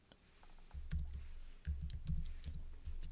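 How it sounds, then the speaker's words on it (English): Keys pressed on a computer keyboard while working in music notation software, a handful of soft, muffled thumps and clicks at uneven intervals, quiet and close with no voices. "Press spacebar to move on."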